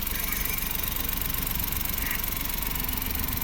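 A Mazda Scrum DA63T's small engine idles in a steady, even chug that stays close and moderately loud throughout, with no voices over it.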